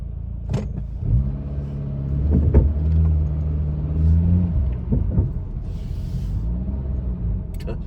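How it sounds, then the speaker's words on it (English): A car with a noisy gearbox moving through traffic, a steady low rumble with a droning whine that rises and settles a few times, punctuated by brief clicks and knocks. "Got such a noisy gearbox, me."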